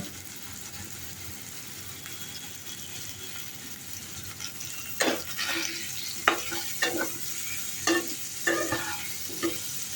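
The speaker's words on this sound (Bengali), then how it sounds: "আলুটা ভাজা হয়ে গেছে, উঠিয়ে নেব।" Potatoes frying with salt in a wok, a steady sizzle under a spatula that scrapes and stirs in several sharp bursts in the second half.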